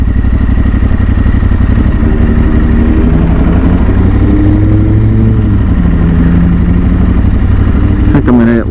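A Tuareg 600 motorcycle heard from the rider's seat while riding, with a loud, continuous engine drone and intake rumble whose pitch rises and falls with the throttle, plus steady road and wind noise.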